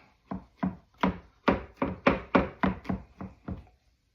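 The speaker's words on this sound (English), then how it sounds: "mince up 3 cloves of garlic" Garlic cloves being minced with a knife on a cutting board, about ten distinct knocking chops at a steady, slightly quickening rhythm, close and clear with no talking.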